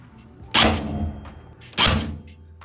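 A staple gun drives staples into drywall while fitting a flush pot light trim, giving two loud, sharp thunks about a second apart, each fading quickly, with no talk over them.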